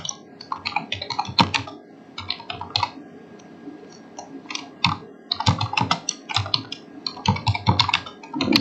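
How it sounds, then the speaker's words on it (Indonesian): Typing on a computer keyboard while building a PowerPoint slide: close, crisp key clicks arriving in irregular bursts with brief pauses between them. "Terus kita hanya mengetik"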